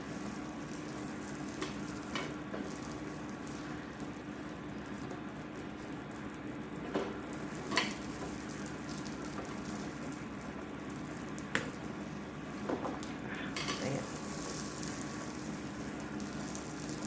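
Asparagus spears sizzle on a grill with a continuous soft hiss and crackle, dotted by occasional sharp pops and light clicks, steady and fairly quiet throughout without any talking.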